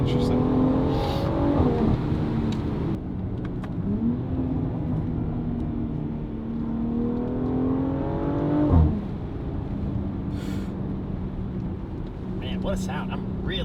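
A BMW X3 M fitted with a Valvetronic Designs exhaust and stock downpipe revs and pulls through the gears, its engine tone rising in long sweeps with a brief spike near the end, loud and continuous with talk over it.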